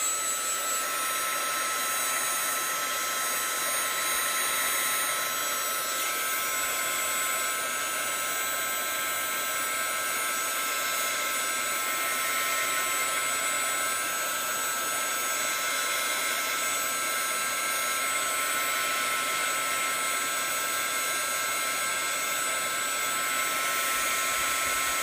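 Hair dryer blowing steadily on paint over a thin napkin for Bible journaling, a continuous close whooshing hum that stays level throughout.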